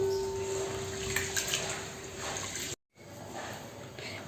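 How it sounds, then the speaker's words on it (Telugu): Soaked basmati rice being washed in a bowl of water gives a steady wet swishing and splashing, broken by a brief moment of silence partway through. "ఇప్పుడు రైస్ని మనం వాటర్ పోసుకొని 2 times వాష్ చేసుకుందాం"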